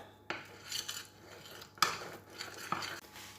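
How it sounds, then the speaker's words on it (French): Olive oil and honey being stirred together in a dish with a utensil, quiet clinks and scraping strokes against the dish, a few sharper taps, close and soft with no talk. "je vais commencer par mélanger mon huile d'olive et mon miel dans un plat"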